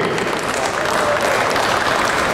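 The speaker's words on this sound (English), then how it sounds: "Round of applause for Edwin Ang on the scale." Dense, continuous applause from a crowd at a professional boxing weigh-in in Hong Kong, loud and steady with no breaks.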